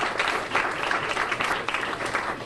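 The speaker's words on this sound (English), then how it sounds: "can you join me in giving a roaring round of applause to your new operator, Mrs. Catherine Wade." Audience at a Chick-fil-A restaurant opening in Springfield, Illinois applauding, a brief dense burst of clapping that holds steady for a couple of seconds.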